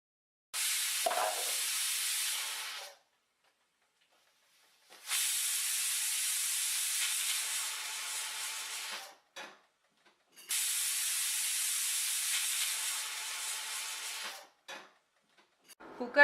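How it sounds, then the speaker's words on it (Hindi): Three long bursts of hissing steam from a pressure cooker cooking arhar dal, each lasting a few seconds with silent gaps between, loud and close. "अब इस दाल को हम कुकर में ढक्कन लगा के 3 सीटी आने तक पकाएंगे"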